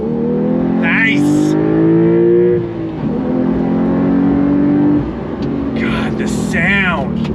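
A 2025 Porsche 911 Carrera T pulls hard from a slow roll in first gear, engine note climbing loudly with quick gear changes and downshift blips, while an excited voice talks over it.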